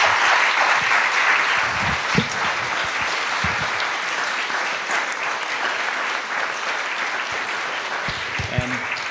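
An audience applauds the musicians after an artist talk and music performance. The clapping is loud and dense, sustained over several seconds and tapering slightly near the end.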